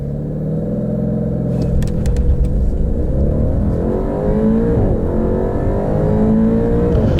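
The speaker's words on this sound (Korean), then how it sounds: "530마력의 콰트로 포르테 GTS. 그렇다면 과연 가속 성능은 얼마나 될까요?" A 2018 Maserati Quattroporte GTS with 530 horsepower accelerates hard, its engine climbing loudly through the gears with a rising roar and brief shift dips, close and continuous.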